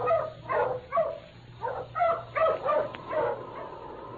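The wonder dog King barks in an old-time radio drama set in the snowy Yukon, a series of about eight sharp, evenly spaced barks and yips heard over a low mains hum on a thin, narrow recording.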